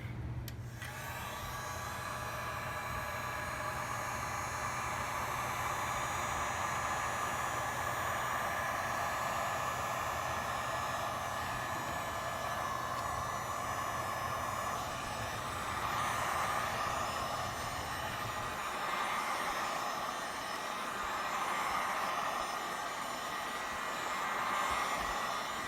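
A Power Fist 12.5 amp heat gun blows steadily at close range, a continuous loud airy whoosh with a motor hum underneath, warming the glue on an iPad; the low hum drops away near the end.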